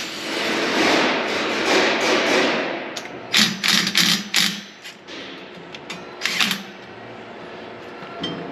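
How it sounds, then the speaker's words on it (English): Someone removes the front panel of a Kubota Grand L tractor, making a cluster of close, sharp plastic clacks and knocks after a few seconds of rushing background noise. "we're going to remove this panel"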